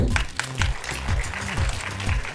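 Steady applause from a crowd at a ladies' association event, many hands clapping continuously at a fairly loud, even level throughout.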